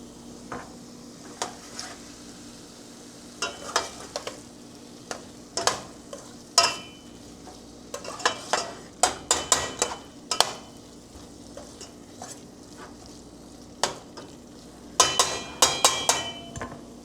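Drumstick pieces being stirred in a hot pan for curry at home, with irregular clinks and scrapes of the spoon against the pan over a soft, continuous sizzle.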